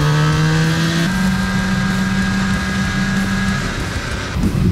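A Honda VFR NC30 motorcycle ridden hard on an open public road without a speed limit, its engine note loud and sustained, climbing in pitch, dropping at a gear change and climbing again, with constant wind rush and no talking.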